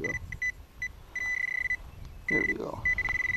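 A metal detector emits repeated high-pitched beeps in short and longer bursts, close by, at an old farmhouse, with rustling of dirt and a brief voice underneath.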